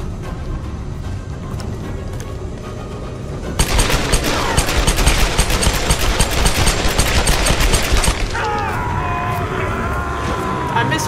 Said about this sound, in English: I missed most of those shots